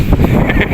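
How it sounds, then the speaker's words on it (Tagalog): Strong wind buffets the microphone outdoors, a loud, continuous low rumble with no break across the short stretch. "Malakas ang hangin guys."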